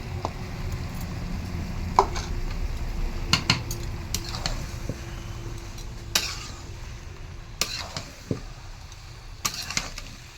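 A spoon repeatedly scrapes and taps against a pan while young jackfruit curry is stirred in a little oil with chopped coriander, giving steady close clinks over a low background rumble and no talking.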